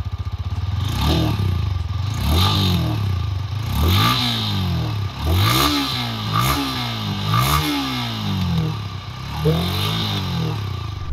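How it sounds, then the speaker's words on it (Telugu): A Yamaha R15 V3 S motorcycle revs repeatedly, its exhaust note climbing and falling in a string of sharp throttle blips, loud and close with no talking. "ఈ బైక్ ఎగ్జాస్ట్ నోట్ ఎలా ఉందో ఒకసారి చూద్దాం మనం"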